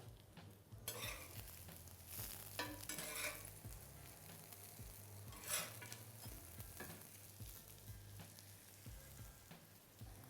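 Plant-based burger patties fry in a splash of oil on a barbecue plate, a faint steady sizzle with occasional scrapes and light metallic clinks of a utensil, a low hum underneath.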